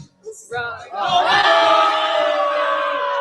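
A large crowd booing Coinbase, a loud sustained massed jeer swelling after a brief spoken intro and holding steady.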